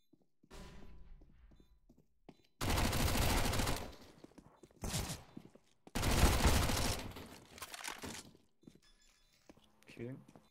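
Counter-Strike match gunfire on the de_mills map: two long loud bursts of rapid shots, with a shorter burst between them and scattered quieter shots, while players talk tensely around them.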